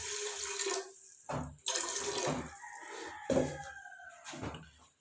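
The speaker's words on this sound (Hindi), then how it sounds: "सबसे पहले इसमें तकरीबन 1 लीटर पानी शामिल करेंगे प्रेशर कुकर में।" About a litre of water pouring into a pressure cooker, a splashing running-water sound in several bursts over a few seconds, close and fairly loud with no talk.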